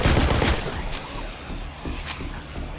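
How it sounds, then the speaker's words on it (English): Regular pistol fire in the Walking Dead Onslaught video game: several loud, closely spaced shots over constant game noise, with no voice over them. "That's the regular pistol."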